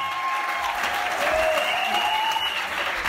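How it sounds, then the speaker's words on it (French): A church congregation claps loudly together during a worship service, a dense steady wash of applause with a faint sustained vocal tone over it. "Acclamez très fort."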